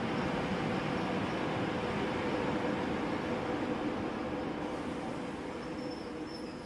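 Steady broadband rumble and hiss of a train rolling past long lines of tanker cars, mostly carrying crude oil, on the Silk Road railway toward Samarkand in Uzbekistan, continuous and fairly loud throughout with a faint tonal whine near the end.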